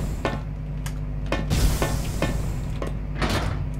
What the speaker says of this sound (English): Doors jammed shut, that's what I thought.